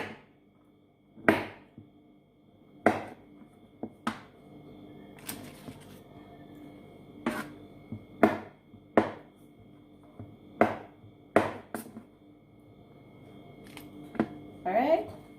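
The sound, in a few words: cutting small pieces of butter into a pan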